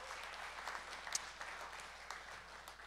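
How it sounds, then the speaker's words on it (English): Church congregation breaks into soft, even clapping after a fundraising announcement, a faint, steady patter heard from a distance. "We can clap to that."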